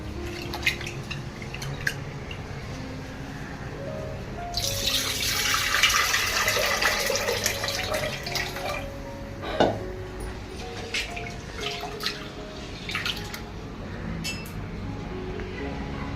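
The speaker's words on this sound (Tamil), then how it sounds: "பால் பொங்கணும்னு இந்த தண்ணி ஊற்றுங்க." Water pours into a cooking pot for Pongal, a Tamil harvest dish of rice cooked in milk, using the water left from rinsing rice; a steady hissing pour swells midway and sits among drips and faint kitchen clatter.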